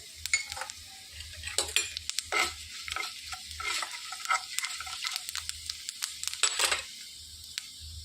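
Fenugreek and cumin seeds hit hot oil for ginger chutney, producing light scattered sizzling with sharp spoon clinks and scraping stirs in an uneven rhythm.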